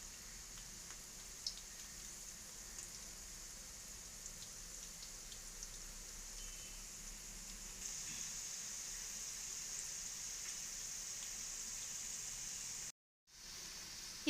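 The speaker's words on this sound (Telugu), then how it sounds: "దీనిని హై ఫ్లేమ్లో గోల్డెన్ బ్రౌన్ కలర్ వచ్చేంత వరకు వేయించుకోవాలి." Ivy gourd pakoda fries in oil over a high flame, a faint, even crackling hiss that holds steady for a long stretch, with a brief dropout near the end.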